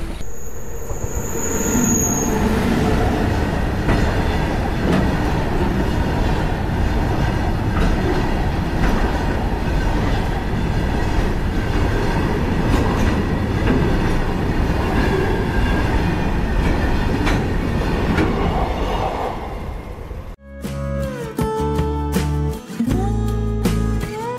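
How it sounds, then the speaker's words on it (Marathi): A train rolls past at close range during the Ganpati festival season at Hamarapur near Pen, a loud sustained rumble with clattering wheels and some squeal lasting about twenty seconds, then cut off abruptly. "ट्रेन येणार आता"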